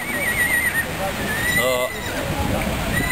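A horse whinnies once during a horse blessing procession on St. Stephen's Day in Zgornji Tuhinj, a short neigh amid crowd chatter and outdoor noise.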